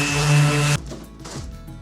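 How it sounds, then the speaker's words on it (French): Makita orbital sander working a catamaran hull surface, a loud steady whirring hum at first that cuts off abruptly partway, leaving quieter workshop sounds. "l'objectif avec la ponceuse orbitale de Makita, ce n'est pas d'appuyer fort"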